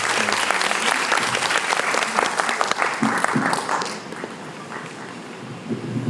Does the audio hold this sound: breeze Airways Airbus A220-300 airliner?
no